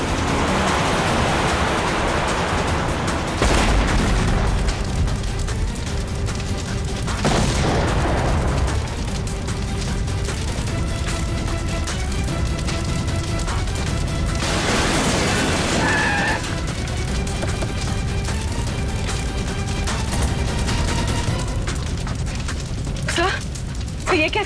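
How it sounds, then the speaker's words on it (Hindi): Car bomb explosion in a TV crime drama, with loud booming bursts standing out from a dense background of dramatic music and noise over about twenty-five seconds. "लगता है इसकी गाड़ी में किसी ने बॉम्ब फिट कर रखा था"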